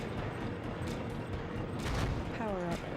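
Guided missile fire in the BattleTanx video game: a rumbling stream of blasts and explosions with a sharper burst near the end, dense and continuous under brief game noise.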